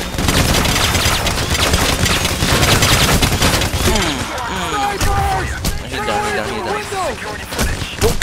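Rapid gunfire from the heist shooter Payday: The Heist rattles loudly and almost continuously, with bursts and impacts piling up, while voices talk over the fighting.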